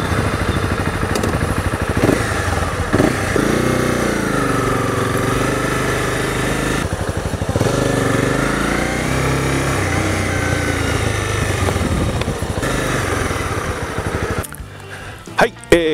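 A Honda CB250R motorcycle engine idles steadily and fairly close throughout, a continuous low rumble under someone talking, cutting off near the end.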